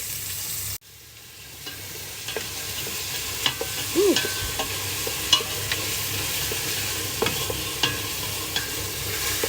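Garlic sizzling in hot oil in a pan while being stirred, with scraping spoon taps over a steady frying hiss, close and continuous, as aromatics are sautéed for kare-kare.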